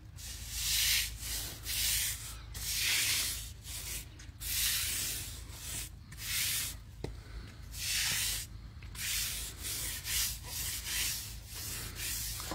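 Lithofin exterior cleaner, used undiluted, being spread with a brush across a blue stone outdoor terrace: steady, rhythmic scrubbing swishes and rasps repeat close by for the whole stretch, with no talking.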